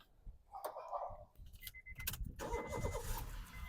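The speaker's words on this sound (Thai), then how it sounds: "สตาร์ทที่เดียวติดนะครับผม" A 2013 Honda City Modulo is started in one try: keys jangle and click in the ignition, then the engine cranks and catches into a steady idle, heard close and clear.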